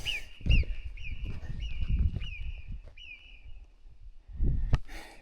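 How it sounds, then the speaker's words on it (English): A loud bird screams on a mountain climb up Pic dels Pessons, giving about six sharp, descending calls at a steady rhythm, clearly audible over low rumbling and footstep noise. "There's this bird, and it's like screaming, and it's so loud."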